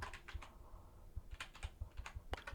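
Quick, faint clicks of typing on a computer keyboard, an irregular run of light keystrokes close by, with no talking.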